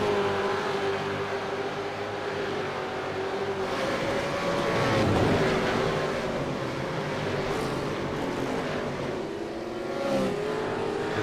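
Supercars race cars brake hard into corners at Barber Motorsport Park, engines droning and downshifting in a continuous loud roar with shifting pitch as the cars pass.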